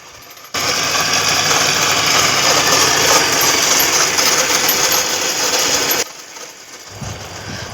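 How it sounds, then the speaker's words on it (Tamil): An electric motor drives a box machine pulley through a V-belt. It starts abruptly into a loud, steady whirring rattle, runs evenly for several seconds, then cuts off to a faint background noise. "மோட்டார்லேருந்து டைரெக்டாக பெட்டி மிஷின் புள்ளிக்கு வி பெல்ட்டு ஓடுறத பார்க்காதவங்க பார்த்துக்கலாம்"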